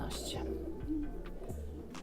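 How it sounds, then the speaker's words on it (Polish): A racing pigeon settles at its loft and gives soft, low repeated coos in a rhythmic series, fairly close but quiet, with a faint whisper-like sound alongside. "ja siada akurat kolejny gołąb 19"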